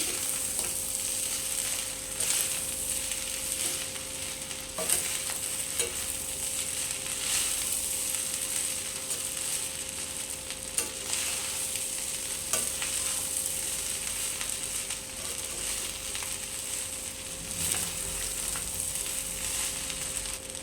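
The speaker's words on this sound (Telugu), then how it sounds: "దీన్ని బాగా కలుపుకుందామండి మొత్తం కలిసేటట్టు కలుపుకోవాలి" Egg fried rice with salt and coriander powder being stirred in a hot pan: a steady, unbroken sizzle runs throughout, with faint scraping of the spoon against the pan and no voices.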